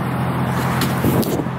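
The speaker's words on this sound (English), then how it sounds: "when he drives off, you can still hear him" A car engine rumbles steadily up close with a low idle hum, swelling slightly as the vehicle pulls away.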